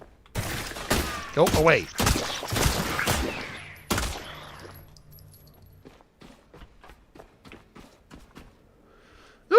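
Video game gunfire rattles out in rapid bursts of sharp shots, dense at first and then thinning into scattered single pops, while a voice speaks briefly.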